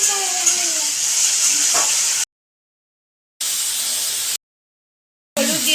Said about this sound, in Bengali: নুন আর হলুদ দিয়ে আলুগুলোকে ভাজবে।